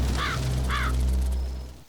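Two harsh crow caws ring out in a Roblox game set in Mulberry County, evenly spaced about half a second apart over a steady low droning hum, with no voices.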